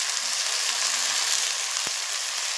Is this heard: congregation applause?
no